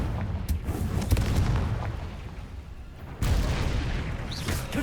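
The Confringo fire spell from Hogwarts Legacy erupts in a series of booming blasts, a cluster of sharp cracks early on and then a heavy explosion followed by lingering roar, loud and close.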